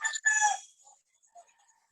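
A rooster gives a single crow up close, a loud two-part call lasting under a second, followed by a few faint trailing sounds and near silence.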